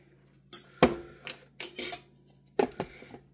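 Spoon clinking and scraping against a jar and dish while measuring out a tablespoon of Duke's mayonnaise, several short, sharp metallic taps spaced irregularly in a quiet kitchen.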